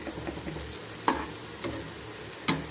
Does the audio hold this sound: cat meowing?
no